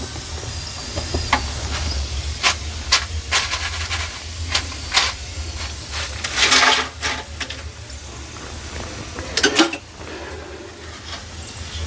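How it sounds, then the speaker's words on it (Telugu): Potato chips deep-frying in hot oil, a steady bubbling sizzle and hiss with occasional louder crackling spurts, close and continuous without talk. "మన చిప్స్లన్నీ మనం ఇట్లా ఫ్రై చేసుకోవాలి"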